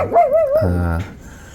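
A dog barks and whines outside a camping tent at the foot of Mt. Banahaw in the morning, giving a single drawn-out, wavering yelp that slides into a lower bark, close and fairly loud.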